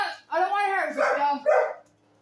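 Dogs bark and yip during a fetch game with a car tire, a quick run of several close, loud barks and whiny vocalizations over about a second and a half, then quiet.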